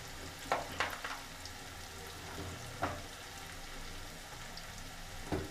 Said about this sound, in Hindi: तो दोस्तों हमारा मसाला भून चुका है